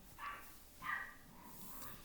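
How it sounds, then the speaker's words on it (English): Two brief, distant yips from puppies, faint and a little muffled, separated by a short pause, with quiet background noise throughout. "You hear my puppies out there playing?"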